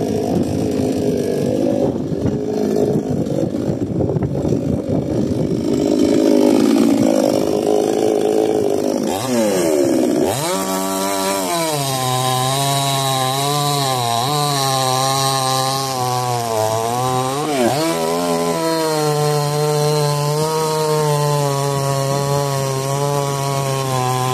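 A Procraft GS-52P chainsaw idles roughly at first, then revs up into a loud, sustained whine as it bites through dry walnut wood, pitch dipping under load.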